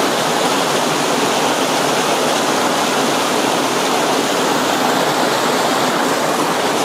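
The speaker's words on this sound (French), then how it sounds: "je suis au bord d'un torrent de montagne" A mountain torrent rushes nearby, a loud, dense and unbroken roar of churning water that stays constant from start to finish with no voices.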